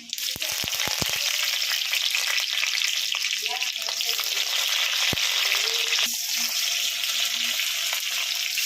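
Chana dal and curry leaves crackle and sizzle in hot oil for spicy tondekai palya, a loud steady frying hiss with a few sharp pops at the start and a stir partway through.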